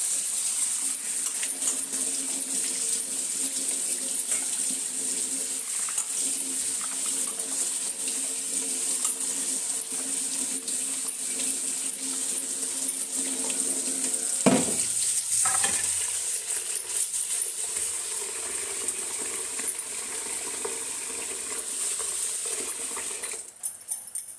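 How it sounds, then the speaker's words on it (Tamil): Tap water runs steadily into a bowl while soya chunks are washed in a home kitchen, a continuous hiss with a brief clatter and splash of handling midway. "தண்ணி திறந்து விட்டு நல்லா வாஷ் பண்ணிக்கலாம்."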